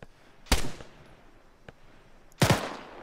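Two sharp gunshots a couple of seconds apart, each a loud crack with a short echoing tail, plus a faint pop between them against quiet outdoor background.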